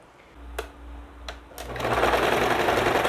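A sewing machine backstitching on elastic shorts: two quick clicks, then the motor whirs up into a loud, steady close stitching run.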